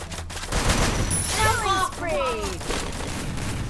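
Rapid gunfire in the Free Fire video game, loud dense bursts of shots running almost continuously with whooshing game effects layered over them.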